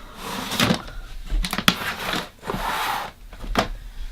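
A makeup storage drawer being pulled open, with several short wooden sliding and knocking bursts spread across a few seconds at close range, no voices.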